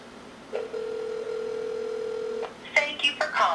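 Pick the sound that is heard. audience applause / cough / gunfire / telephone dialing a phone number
telephone dialing a phone number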